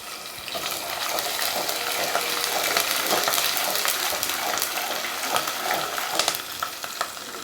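Curry leaves drop into ginger garlic paste frying hard in a pan while prawns are being cooked, a loud, dense, steady crackling sizzle throughout with no speech.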